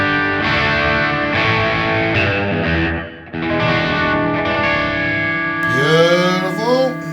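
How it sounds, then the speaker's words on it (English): Electric guitar through a Mesa Boogie amp emulation on a Sonicake Matribox dirty channel with the tube screamer switched off, strummed distorted chords ringing out and ending in a sliding, bending flourish, close and loud with no voices. "Just turn the tube screamer off so you can hear the Mesa Boogie by itself."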